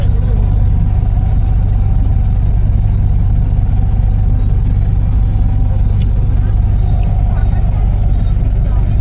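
A bus engine drones steadily from inside the moving bus, a loud, constant low rumble that fills the whole stretch, with faint voices mixed underneath.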